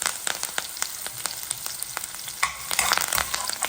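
Curry leaves crackle and sizzle in hot oil with mustard seeds, urad dal and chopped green chillies as a spoon stirs them, a steady close-up frying hiss broken by sharp pops and scraping strokes.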